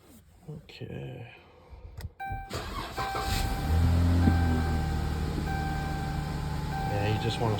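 A 2013 Dodge Charger SE with a 3.6L V6 cranks in a garage and catches, then settles into a steady, close idle with a faint whine, while someone talks over it.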